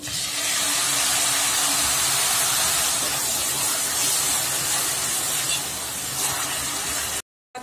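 Three large tomatoes go into a pan of sizzling onions and curry leaves for spicy Indian-style pasta, producing a loud, steady close hiss and sizzle that cuts off abruptly near the end.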